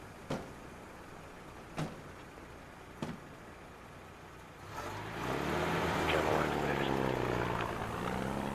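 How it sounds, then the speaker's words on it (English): A propeller plane readies for takeoff on an airstrip in the video game Ghost Recon: Future Soldier, its quiet engine drone swelling in after a few sharp clicks and then holding steady. "Looks like the plane's prepping for takeoff."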